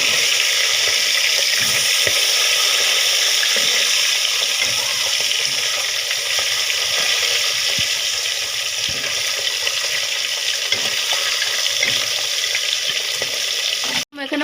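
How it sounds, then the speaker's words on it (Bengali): Fish frying in hot oil in a home kitchen, a loud continuous crackling sizzle that holds steady for the whole stretch, ending with a sudden clatter. "মাছগুলি ভাজতেছি যেগুলি আমি সবজিতে দিব সেগুলি ভেজে নিচ্ছি"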